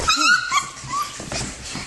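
Shepadoodle puppies whimper and yip in a short burst of high, wavering cries, close and fairly loud, with a brief pitch-sliding whine near the start and softer whines trailing after.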